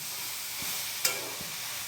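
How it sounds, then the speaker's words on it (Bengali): Soybean chunks fry with spices in a hot pan, giving a close, continuous sizzle with one brief metallic clink of a stirring utensil partway through. "সয়াবিনটা মশলা দিয়ে ভেজে নিচ্ছি"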